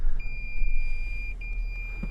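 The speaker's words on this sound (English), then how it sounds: "stop those beeps" Steady high-pitched seatbelt warning tones sound inside a Toyota Sequoia TRD Pro cabin, with a few sharp beeps over low road rumble and no speech.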